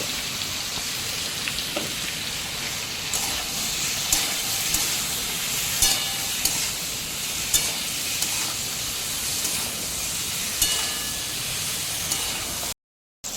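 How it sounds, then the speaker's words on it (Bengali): Potato and pointed gourd, salted and dusted with turmeric, frying in a wok with a dense, rain-like sizzle that holds steady and close throughout, broken by a brief dropout near the end, with no talk. "আলু পটলটা খুব ভালো মতো করে ভাজা হয়ে গেছে, 4-5 মিনিট সময় ধরে ভেজে নিয়েছি"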